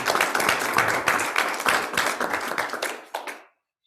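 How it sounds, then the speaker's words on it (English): Applause from the audience at a Northwestern University press conference, a close, lively burst of clapping hands that thins out and stops abruptly near the end. "Let's give Lord a round of applause."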